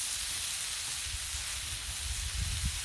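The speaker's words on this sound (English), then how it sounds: "Letting the burgers cook up." Crunchwrap burger patties sizzling on a griddle set to medium give off a steady, dense frying hiss with a low rumble underneath, close and continuous without a break.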